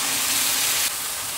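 Mushroom soaking water poured into a hot stir-fry of vegetarian mushroom and tofu sauce gives a loud, steady broadband sizzle that eases slightly after under a second and keeps hissing.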